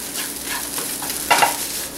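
A quinoa mixture is tossed in a hot pan, with a continuous sizzle and a short louder rush of scraping and frying as the food turns over.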